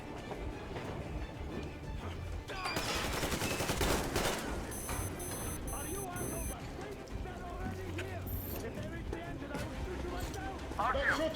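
Gunfire in the video game Metro Exodus, bursts of shots and rumbling action mixed with music and effects, under frequent talking.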